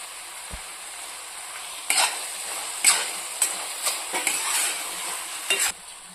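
Carrot halwa with khoa and ghee stirred in a pan: a steady, gentle sizzle broken by a series of scraping strokes and clicks of the spoon against the pan, close and clear.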